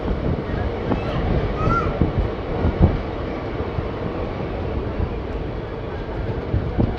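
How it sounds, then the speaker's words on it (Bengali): A Tatanagar–Asansol Express train rolls into Purulia Junction with a steady, broadband rumble of wheels and carriages, brief squeals and clanks rising over the continuous noise, a voice heard faintly beneath. "ট্রেন পুরুলিয়া জাংশন এন্টার করছে"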